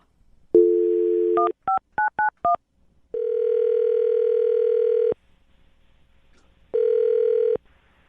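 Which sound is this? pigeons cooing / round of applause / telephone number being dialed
telephone number being dialed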